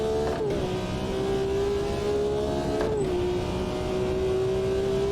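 BMW M1 Procar engine held flat out uphill on the Nordschleife, a loud steady high-revving drone with two brief pitch dips as it shifts gear, close and continuous throughout.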